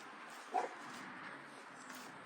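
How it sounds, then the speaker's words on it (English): A single short dog bark rings out early, then only a steady, quiet background hiss remains. "Charlie, What are you barking at?"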